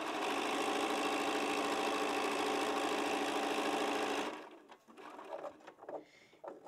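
A sewing machine runs steadily and loudly while stitching a scrappy Pizzelle quilt made from two charm packs, then stops abruptly, leaving quiet handling noises and soft rustles of fabric.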